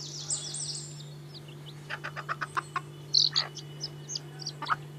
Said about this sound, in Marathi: कोंबडीला बाहेर सोडलंय, आता ती आपल्या पिलांना कसं खायला शिकवते।